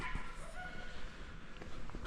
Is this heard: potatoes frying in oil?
no